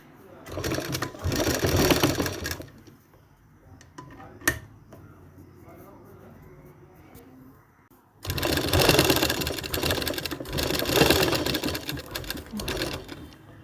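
An electric sewing machine stitches tucks on a blouse in two loud sustained runs of rapid whirring and clattering, separated by a quieter pause with a single sharp click and soft handling noise.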